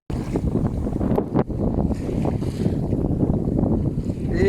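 Steady wind roars across the microphone aboard a sailboat at sea near La Ciotat, a dense continuous rush with a brief gust dip partway through, loud and close with no voices.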